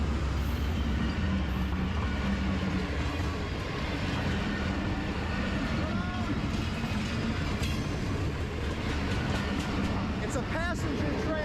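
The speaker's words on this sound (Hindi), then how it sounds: "अच्छा, तो ट्रेन आ रही है।" A passenger train rushing past on railway tracks, loud and close, with steady wheel rumble and clattering from the carriages, as someone talks over the noise.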